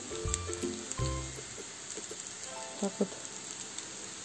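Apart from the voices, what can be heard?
potato pancakes (draniki) frying in a pan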